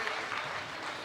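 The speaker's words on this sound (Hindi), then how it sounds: "एक बार जोरदार ताली श्रद्धेय सत्यनारायण सत्तन जी के लिए बजनी चाहिए" An audience at a Hindi poetry recital (kavi sammelan) in Kotadi Charbhuja bursts into dense, sustained clapping, a steady wash of many hands applauding without pause.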